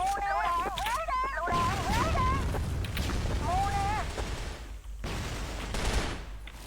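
A grenade detonates in a shooter video game, releasing a dense, rumbling blast with a clattering burst of gunfire that fills several seconds and then cuts off abruptly, while players talk excitedly over it.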